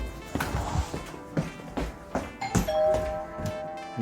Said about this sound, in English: I'll hit the doorbell and you'll see it takes a few seconds for it to actually ring.